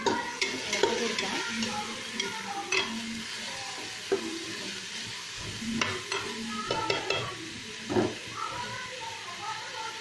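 Onions frying in a pan for mutton biryani, stirred with repeated scraping strokes over a steady close sizzle, with a few faint background voices.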